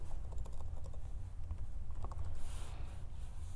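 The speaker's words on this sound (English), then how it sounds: "what I'm going to do is just type in the word paint" A computer keyboard tapped in a quick short burst while entering a search word, light clicks near the mic over a low steady room hum, with no one speaking.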